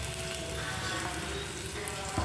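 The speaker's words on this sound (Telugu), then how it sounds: "అవి ఇప్పుడు ఆయిల్లో బాగా ఎర్రగా ఫ్రై చేసుకుందాం" Onions and green chillies fry in hot oil for a chicken fry curry, giving a steady, close sizzle that runs unbroken for the whole stretch with no one talking.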